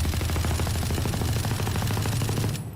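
Sustained rapid automatic gunfire in the shooter game Valorant, fired while crouching, a dense, loud, continuous stream of shots that cuts off just before the end.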